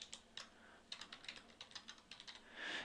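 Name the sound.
typing on a computer keyboard into Excel cells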